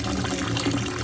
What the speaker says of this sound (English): now I'm just gonna fill this up with cold water